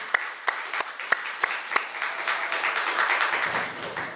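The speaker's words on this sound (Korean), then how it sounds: "우리 박수하겠습니다" A church congregation at a Christmas Day service claps, beginning with several sharp separate claps that swell into denser applause filling the room, with some faint voices underneath.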